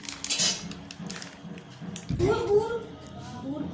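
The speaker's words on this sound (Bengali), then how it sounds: "প্রথমে সুজি ও ময়দা দুধে মিশিয়ে নিলাম।" Semolina and flour are stirred into milk in a bowl for patishapta pitha batter: scraping and clinking of a utensil against the dish, with a louder wet swirl partway through, under nearby chatter.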